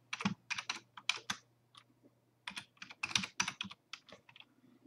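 Keystrokes on a computer keyboard, typed in quick bursts of clicks separated by short pauses, close and clear with a faint steady hum underneath.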